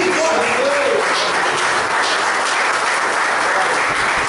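Steady, dense applause from a large church congregation fills the whole stretch, loud and continuous without letting up.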